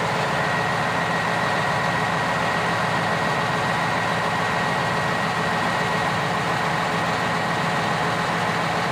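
John Deere 6150R tractor engine running steadily while the hydraulic lift raises, a constant loud diesel drone and broadband rumble with no change in pitch, no talk over it.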